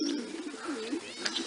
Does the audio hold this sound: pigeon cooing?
yes